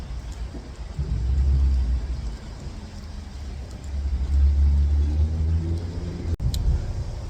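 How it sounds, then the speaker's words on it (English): A lorry crosses a motorway bridge overhead, heard from the space underneath as deep rolling rumbles that swell twice. Each passage builds heavily and then fades, followed by a brief knock near the end. "It's every time a lorry goes over."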